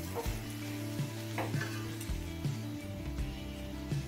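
Gobindobhog rice and dal for vegetarian khichuri fry on a medium flame, a close sizzle broken by repeated clinking spoon stirs against the pot, without speech.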